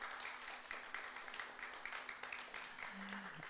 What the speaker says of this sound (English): Yes, give them an applause.